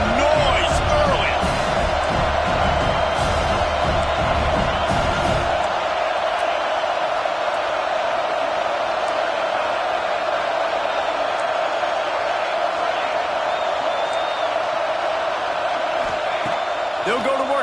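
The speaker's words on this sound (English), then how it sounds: "This crowd bringing the energy and noise early." A stadium crowd at a UCF versus Auburn football game keeps up a loud, sustained roar and cheering throughout, with thumping noise early on and a voice talking over it.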